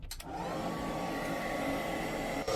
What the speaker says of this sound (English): So this is your hairdryer.